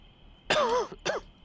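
A person with a bad cough gives two short, harsh coughs or throat clears close to the microphone, a longer one followed by a brief second burst.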